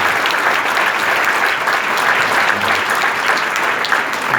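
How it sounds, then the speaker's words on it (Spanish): At a worship gathering of adorers in Patagonia, a crowd gives loud, sustained applause, dense even clapping throughout. "Toda la adoración y la gloria y los aplausos son para Jesús."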